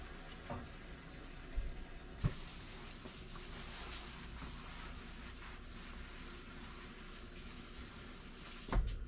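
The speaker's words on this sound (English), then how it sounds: "Sounds like the washing machine's filling up with the" A washing machine filling with water gives a steady hiss of running water through the whole stretch, with a couple of faint knocks and clunks along the way.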